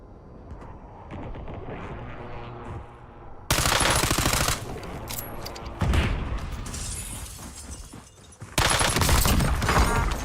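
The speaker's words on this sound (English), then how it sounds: "They were shooting at somebody else." Gunfire in Call of Duty Warzone on Verdansk: loud automatic bursts come in three separate rapid volleys with sharp cracks, and quieter ambient game noise sits between them.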